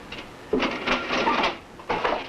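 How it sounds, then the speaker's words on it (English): Cash register in a bar being opened and emptied: close, bursty mechanical clatter and rattling in a few separate rounds, with short pauses between them. "Empty the cash register."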